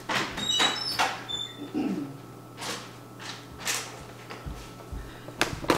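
A kitchen pantry door is handled at home, with rummaging, soft knocks and a brief squeaky creak, followed by a few thuds, fairly close and quiet.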